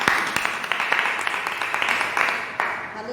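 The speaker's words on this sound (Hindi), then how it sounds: "प्रभु को जोरदार तालियों से स्वागत करती हूँ" A church prayer gathering gives loud applause welcoming the Lord, a dense run of many hands clapping with a few sharp individual claps standing out, sustained for about three seconds.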